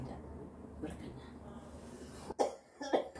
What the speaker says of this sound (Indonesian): Saya sampai batuk mendengar curhatan hati Ibu